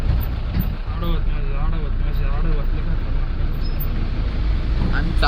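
A new car cruising along a highway, with steady road and engine rumble filling the whole stretch while people talk inside the cabin.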